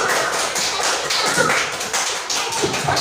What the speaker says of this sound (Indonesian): kasih aplaus dong untuk kelompok 2